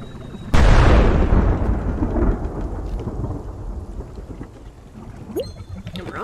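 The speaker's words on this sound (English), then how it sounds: "Oh, lightning storm." A thunderstorm in the video game Spiritfarer: a sudden loud thunderclap that rolls and rumbles away over several seconds, with steady rain hissing underneath throughout.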